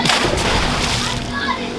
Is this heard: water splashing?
yes